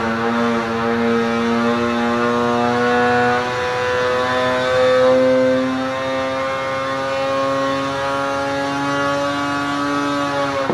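A Polaris 850 snowmobile engine fitted with a Bikeman Stage 2 kit runs on a dyno, holding a loud, steady, high-pitched two-stroke drone for the whole pull with a slight rise in pitch partway through and no talk.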